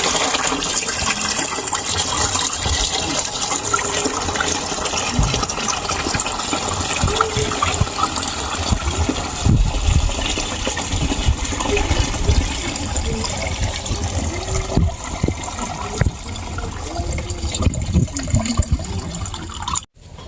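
Grated coconut washed in water to make coconut milk, giving continuous close sloshing, pouring and trickling liquid with occasional splashes and squeezing sounds, steady throughout until a sudden stop at the end.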